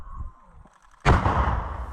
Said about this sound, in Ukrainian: черговим пострілом зі 120-мм міномета